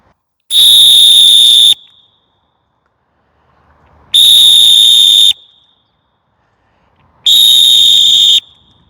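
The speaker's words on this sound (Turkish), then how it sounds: "Bu diğer düdüklerden farklı olarak içinde nohut var" Three long, shrill blasts from a pea whistle with a chickpea inside, each about a second, separated by short pauses, loud and close with a steady trilling tone and no talk.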